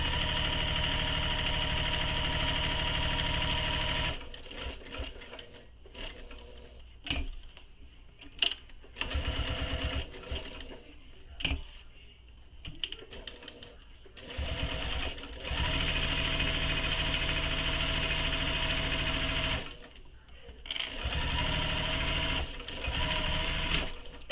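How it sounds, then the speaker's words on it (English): A sewing machine runs in long steady bursts with brief pauses, stitching the second handle onto the main back panel of a handbag; the whirring motor is close and loud. "And now I'm sewing the second handle to the main back panel."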